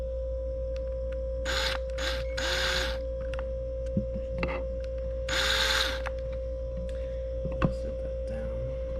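A power drill bores holes to mount a license plate bracket on a 2G Eclipse, giving several short, loud whirring bursts between pauses over a steady background hum, with a few clicks and knocks.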